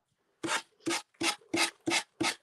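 Six even strokes of rasping on wood, a rhythmic back-and-forth scrape with short pauses between each pass, close and clear.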